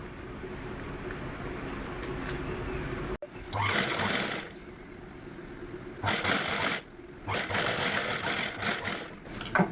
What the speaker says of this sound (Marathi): चला आता आपण ही पट्टी स्टिच करून घेऊया